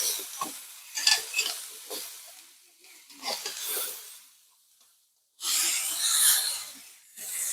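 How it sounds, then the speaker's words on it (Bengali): Vegetables with salt and turmeric fry in a pan, the hissing sizzle rising in bursts as they are stirred, then falling quiet before a loud, bright sizzle returns. "সবজিগুলো আমি লবণ হলুদে ভালোভাবে ভেজে নিব"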